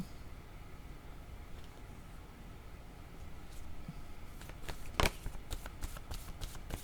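Word cards being shuffled for a card reading, quiet at first and then a run of crisp riffling flutters and snaps close by near the end, with no talking.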